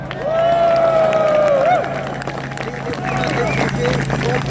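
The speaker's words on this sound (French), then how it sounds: "On peut faire un tonnerre d'applaudissements." A crowd at an outdoor patriots' demonstration in front of the Romanian embassy: a long sustained tone over crowd noise first, then a dense wash of clapping and cheering that holds steady to the end.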